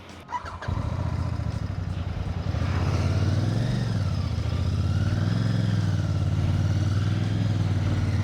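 Royal Enfield Bear 650 twin-cylinder motorcycle starting off and riding, a close, steady deep exhaust rumble that rises slightly as it pulls away, with no one speaking.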